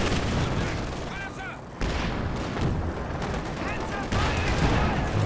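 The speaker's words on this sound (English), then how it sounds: "Runs them right into the machine gun though." Machine gun fire in Company of Heroes 2 during a 1v1 match, with dense rattling bursts and booming battle noise throughout, loud and continuous, under background speech.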